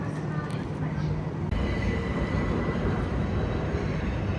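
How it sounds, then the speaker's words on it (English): A Southern class 377 electric train on an East Grinstead to London Victoria service departs Clapham Junction with a loud, steady rumble and rising traction whine, heard close up throughout. "about ready to go now is the 29, I think it is, southern service from East Grinstead to London Victoria"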